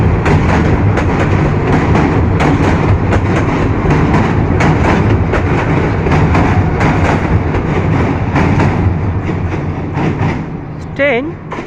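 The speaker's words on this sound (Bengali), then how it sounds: "ব্রিজের উপর দিয়ে ট্রেন যাচ্ছে।" A train from Mymensingh crossing a bridge near Joydebpur station on a winter morning, a loud, continuous close rumble with rhythmic rattling wheel clatter that eases slightly at the end.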